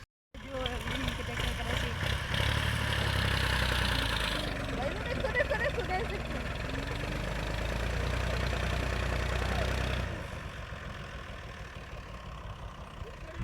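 A tractor engine runs steadily nearby, a continuous low idling rumble that holds for about ten seconds before easing off, with some background noise.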